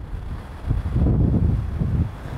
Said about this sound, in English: Wind is whipping.